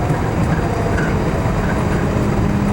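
A Walt Disney World monorail train rumbles steadily from inside the cabin as it slows, a loud continuous hum and rolling noise.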